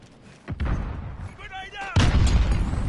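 Stun grenade thrown in a Call of Duty game, with a pop and a muffled rumble, then a second loud bang near the end, while a voice calls out in between.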